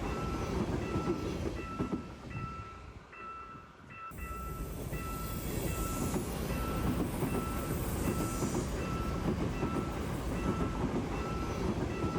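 Train running past a railway level crossing near Jeongdongjin on the Korean east coast, a steady loud rumble of rolling cars with faint clickety-clack and wheel squeal throughout, no voices.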